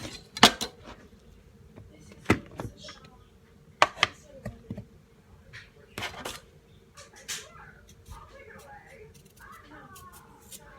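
A chef's knife chopping kiwi on a cutting board, with sharp irregular knocks in quick clusters and quieter pauses between, heard close alongside a person talking.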